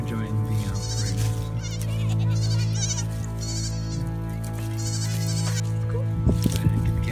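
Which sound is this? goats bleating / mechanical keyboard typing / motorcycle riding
goats bleating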